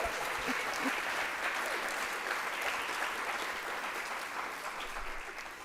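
An audience at a Walrus Talks event on the power of animals claps steadily in a hall, a thick, sustained round of applause that fades gently toward the end.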